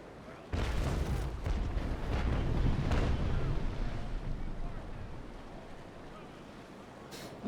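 A sailing ship at sea in Naval Action, with a steady roar of wind and washing water that swells loudly and then eases off, broken by a few heavier thumps.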